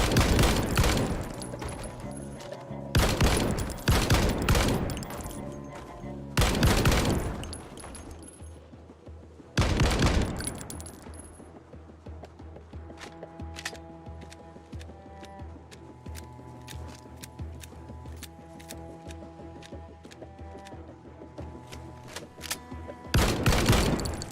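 Gunfire in the zombie survival game Project Zomboid: loud, dense bursts of rapid automatic shots in several volleys, then a quieter stretch of rattling mechanical clicks and faint tones before a final burst.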